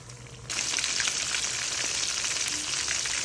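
Half a second of quiet room tone, then a loud burst of sizzling as a fish fillet hits hot oil, frying on steadily with a bright crackling hiss.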